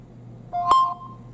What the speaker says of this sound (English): we just heard the beep, which means that the camera has just been accepted